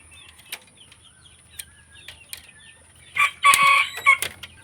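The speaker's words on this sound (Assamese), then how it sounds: "ইয়াতে মুৰ্গী আছে বৰ্তমান 60 পিছমান" Wings flap in short bursts amid a henhouse, followed by a loud crowing and clucking outburst near the end.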